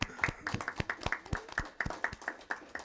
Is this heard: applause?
yes